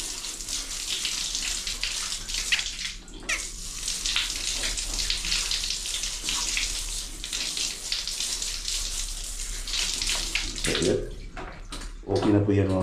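Steady running water rinses a fishing reel and its line under a tap, a continuous close hiss and splash that stays loud throughout, with a brief break near the middle and a short change in flow at the end.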